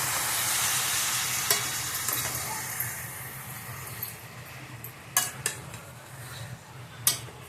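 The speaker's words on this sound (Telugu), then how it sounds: "వేసాక ఇలా కలుపుకోవాలి." Chukkakura leaves sizzle in a pan as they are stirred, a hissing frying bed with soft scraping and a few sharp clinks of a utensil against the metal, close and loud without speech.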